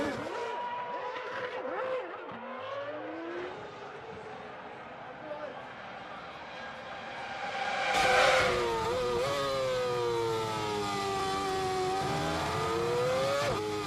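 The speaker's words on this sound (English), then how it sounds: "His engine was cutting out just a few seconds ago. He's got it going again, but a lot of people have passed him." A Formula 1 car engine at the 2007 Brazilian Grand Prix in São Paulo, restarting after cutting out, as other cars pass. A commentator talks over a continuous whining engine that rises and swells in pitch before settling into a steady drone.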